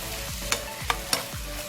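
A steady sizzle of vegetables and chicken dry-frying in a pan, punctuated by three sharp scrapes of a utensil stirring, close and without talking.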